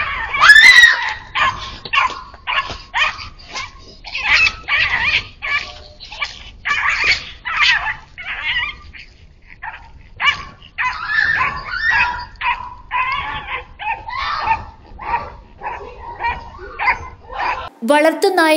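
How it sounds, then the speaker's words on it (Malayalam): Pet dog barking, yelping and whimpering while fighting a wolf larger than itself, frantic and continuous, with screaming mixed in. "വളർത്തു നായയേക്കാൾ വലിപ്പമുള്ള ചെന്നായയോട് നേർക്ക് നേർ നിന്ന് പൊരുതുന്ന വീഡിയോയാണ്"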